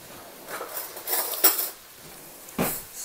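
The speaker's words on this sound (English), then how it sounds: "stir it up a little bit so we get all of it stirred up good" A spoon stirring butternut squash in a pot gives a few soft scrapes and clinks against the metal, spaced irregularly and heard close in a quiet kitchen.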